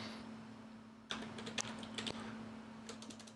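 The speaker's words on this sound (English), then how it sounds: "let's go ahead and type some text" Keys on a computer keyboard tapped in short bursts of a few quick clicks, close and moderately loud over a steady low hum, with no one speaking.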